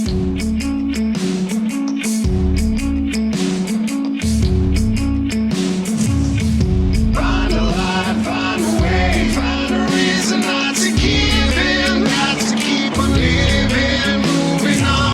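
A final mastered mix of a song plays back as a full, dense arrangement with steady bass, drums and layered instruments, growing brighter and busier about halfway through, at a constant loud level with no talking.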